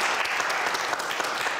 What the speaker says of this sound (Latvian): Es domāju, ka Inese ir pelnījusi mūsu visu aplausus.